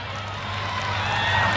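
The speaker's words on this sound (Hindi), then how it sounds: "अब मुझे भरपूर तालियां देकर के विदा कर दीजिएगा।" An audience at a kavi sammelan poetry recital applauds, a steady dense wash of clapping that holds evenly and builds slightly, with faint crowd murmur.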